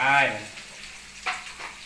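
Pork dropped into a hot pan gives off a faint, soft sizzle with a few small stirring scrapes, following a moment of talking.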